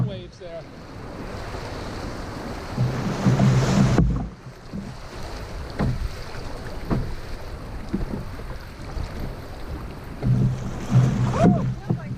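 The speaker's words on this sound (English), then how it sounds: "Oh man, there's some nice surfing waves there." River rapids on the Connecticut River below Turner's Falls, Massachusetts surge and slosh under a canoe in a close, continuous rush. Wind buffets the microphone, paddles splash, and voices can be heard now and then.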